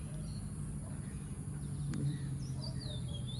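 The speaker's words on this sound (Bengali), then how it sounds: "এটা মেল দোয়েল পাখিরা কিন্তু ডাক পারতেছে।" A male oriental magpie-robin sings over steady low background hum, its clear whistled phrases rising and falling in the second half, moderately distant and fairly soft.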